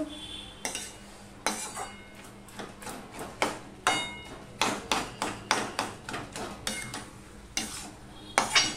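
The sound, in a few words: stirring cooking greens (saag) in a pan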